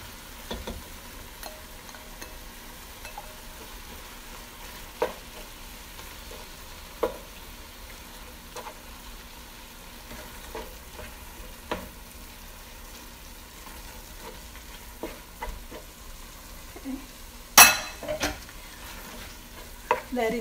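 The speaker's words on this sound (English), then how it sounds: "I'm going to add in the minced beef." Lean minced beef, 500 grams, frying in a pan for chili con carne, a low steady sizzle with occasional scrapes and taps of a spoon stirring, fairly quiet throughout with a sharper clatter near the end.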